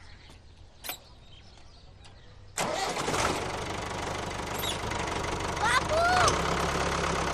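A tractor engine on a farm cranks and catches, then settles into a loud, steady knocking idle up close, while a voice speaks briefly over the running engine.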